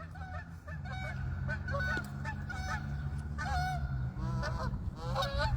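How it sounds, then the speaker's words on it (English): Two geese pass overhead honking loudly and repeatedly, their calls carrying over a steady low outdoor rumble. "Two geese over my head."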